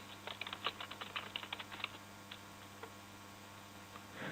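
Notes are typed on a computer keyboard in a quick run of light clicks that thins to scattered taps, heard faintly over a low electrical hum.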